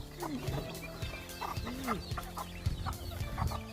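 Several free-range village chickens cluck in short, overlapping calls close by on a small farm, with a busy farmyard murmur underneath.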